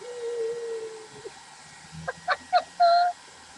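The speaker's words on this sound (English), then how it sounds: "And the birds are singing." Outdoor birds calling during an indoor painting session, one long steady whistled note followed after a pause by a few short chirps and a slightly longer clear note, faint and somewhat distant.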